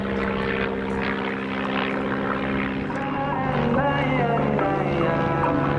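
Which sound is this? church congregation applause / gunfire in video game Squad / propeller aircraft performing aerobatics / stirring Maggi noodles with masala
propeller aircraft performing aerobatics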